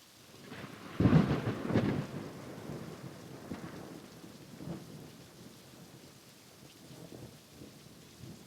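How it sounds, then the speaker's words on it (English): Steady rain with a loud rumble of thunder early on, then rolling more quietly into a continuing downpour. "The rain drummed relentlessly against the window pane as Ethan stared"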